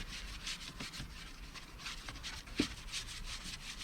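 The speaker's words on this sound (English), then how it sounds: "just give it a light sand over" Primed, undercoated wood on a homemade child's toy farm gets a light hand sanding, giving soft, quiet rasping strokes in an uneven back-and-forth rhythm, close by, with one sharper scrape partway through.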